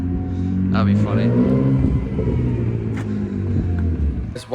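A BMW engine idles and revs with a low, steady rumble, close by, while people talk over it throughout.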